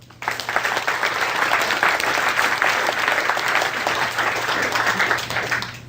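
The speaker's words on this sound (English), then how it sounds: "Give me a nice round of applause." A seminar audience claps steadily for several seconds, a dense, even burst of applause that fades slightly at the end.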